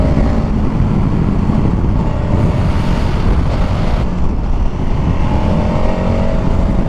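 A 2021 KTM 1290 Super Adventure S motorcycle accelerating hard with the front wheel lifting, the engine roaring loud and continuous under heavy wind buffeting on the microphone, with no talking.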